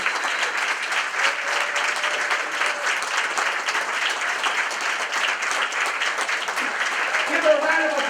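An audience at a Champions for Children awards event applauds an award winner, with steady, dense clapping filling the room throughout and a few voices rising over it.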